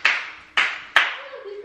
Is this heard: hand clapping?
yes